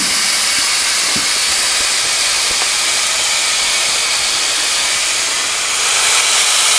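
A ribeye steak with a little butter sizzles under the closed lid of a George Foreman grill, a steady loud hiss that holds unbroken throughout, with no talking.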